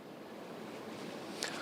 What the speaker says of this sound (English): I can still hear those waves right behind you